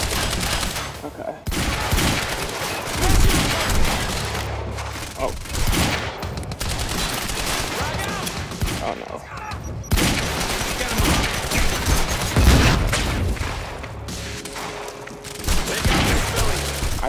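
Heavy pistol gunfire in the video game Quantum Break: dense, loud volleys of shots and booming impacts, nearly continuous with only brief gaps, close and dominant, with no talk over them.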